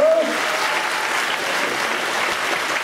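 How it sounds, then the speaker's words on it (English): A live stage-show audience breaks into a big round of applause for a volunteer heading up onstage, dense steady clapping filling the room at full strength throughout with no talk over it. "Everybody give Brian a big round of applause."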